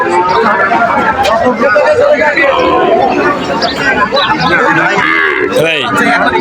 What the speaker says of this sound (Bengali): দেশি গরু এগুলো